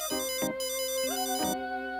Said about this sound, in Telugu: రేయ్, ఫోన్ వస్తుంది చూడరా.